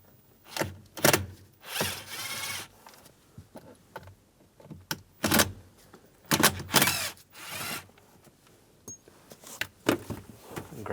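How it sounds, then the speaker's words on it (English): Screws come out of a trim panel on a 2005-2007 Ford Five Hundred with a Phillips screwdriver, heard as intermittent close scraping, creaking turns and plastic clicks in short bursts separated by quiet gaps. "You're going to use a Phillips head screwdriver. Take those screws out."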